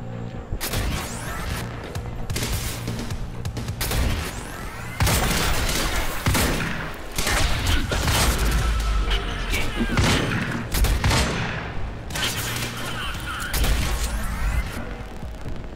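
Semi-automatic gunshots in Quantum Break, loud repeated shots and impacts over a sustained, busy din of action, crashes and booms, with almost no speech.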